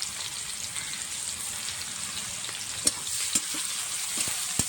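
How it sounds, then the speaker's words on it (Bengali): Chopped onion and tomato frying in a pan, a steady close sizzle with a few sharp stirring clinks toward the end. "পেঁয়াজ আর টমেটোটা ভালো করে ভেজে নেব"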